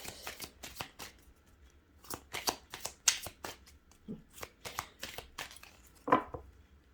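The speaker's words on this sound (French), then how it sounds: "je vais le recouvrir avec l'oracle de Mademoiselle Lenormand" Lenormand oracle cards are handled and shuffled in a quiet room, with a run of soft, crisp flicks and light taps in uneven bursts, close and gentle.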